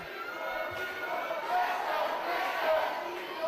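A wrestling crowd in Doncaster cheers, a loud steady roar of many voices with whoops rising and falling, and a commentator talks over it.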